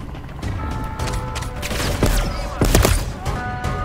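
A ray gun fires in Call of Duty MWZ, the zombies mode, in a string of sharp, loud energy blasts with sweeping electronic whines, over a constant layer of game noise and hum.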